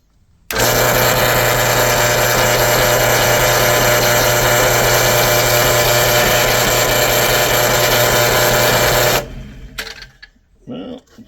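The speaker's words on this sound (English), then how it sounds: "Try to drill a hole." A power drill whirs loudly and steadily for about nine seconds, drilling a hole in a DeWalt 735 planer exhaust adapter, then stops abruptly, leaving quieter rustling and handling sounds.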